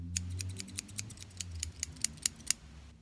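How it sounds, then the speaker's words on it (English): Scissors snip paper in a quick run of about a dozen sharp, close clicks while cutting out a tattoo design in a quiet setting. "Obviously, the scissors to cut out your design when finished."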